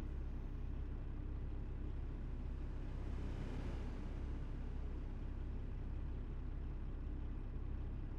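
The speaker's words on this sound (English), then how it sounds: "I like the way this engine sounds. It sounds good with the truck." Steady truck engine in American Truck Simulator on a Western Star 49X, with a constant heavy low drone and road noise, near and unbroken throughout.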